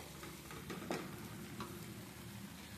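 Masala frying in oil in a pan for a prawn dish, a soft continuous sizzle with a few stirring scrapes, close but faint and brief.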